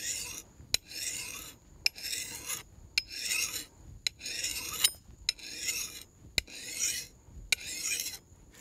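Steel file rasping along an axe edge in the field, rhythmic strokes roughly once a second, each ending with a faint tap, close and steady with no talk.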